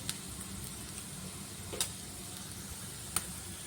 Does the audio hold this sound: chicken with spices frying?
yes